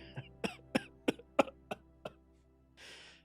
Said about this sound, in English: he begins coughing up a little bit of like residual dust out of his body